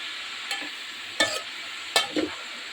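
Cabbage palya is stirred in a pan over a soft, continuous sizzle, with four distinct scraping strokes of the spoon landing at uneven intervals, close and clear, with no talking.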